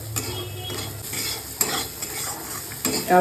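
Salted onions frying in a pan for a vegetable and potato dish, a close sizzle under brisk stirring and scraping strokes of a utensil, with a louder clatter near the end and no voices.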